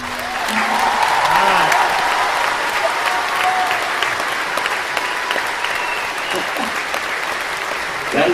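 A live music show audience in Camden cheers and applauds loudly, a close, sustained burst of clapping with crowd noise that runs through the whole stretch, with a voice briefly sounding over it.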